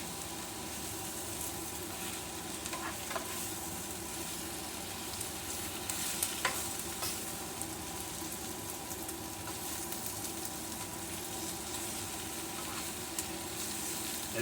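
Spinach wilting down in a hot pan for a Chicago-style stuffed spinach pizza, giving a steady, close sizzle and crackle of frying that holds even and unbroken throughout, with no talking.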